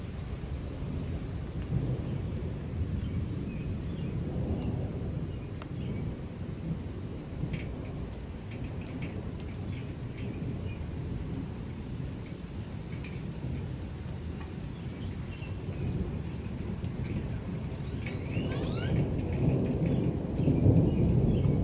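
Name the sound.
thunderstorm with rain and thunder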